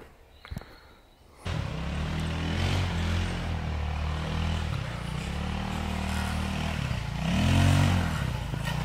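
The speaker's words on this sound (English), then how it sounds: "driving his go-kart right in the woods" A go-kart driven through the woods: a steady, close small-engine drone starts abruptly after a brief quiet moment, then holds with slight revs and a louder surge near the end, with faint clattering over rough ground.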